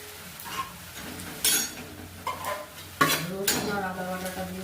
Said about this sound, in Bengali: চিকেন কষাটা পেঁয়াজ ভাজছি, একটু লবণ দিয়ে দিলাম